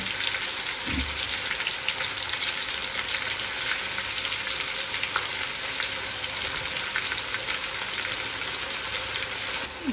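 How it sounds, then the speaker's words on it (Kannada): Onions fry with ginger garlic paste in a pan for an egg rice dish, giving a loud, steady, dense sizzle that runs unbroken throughout with no talking. "ಈರುಳ್ಳಿ ಕಂದು ಬಣ್ಣಕ್ಕೆ ಬಂದಿದೆ"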